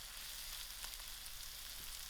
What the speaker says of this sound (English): I've been stirring my green beans continuous, and now the green beans has browned a little the way I like it.